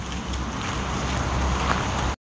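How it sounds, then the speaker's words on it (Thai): Wind at a roadside stop after light rain buffets the microphone in a steady, loud low rumble with a broad hiss lasting about two seconds before cutting off. "ลม"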